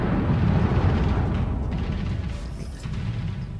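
Warship shells hit an enemy ship in the naval battle game World of Warships, producing a loud, continuous rumbling roar of explosions that fades slightly toward the end, with no talking.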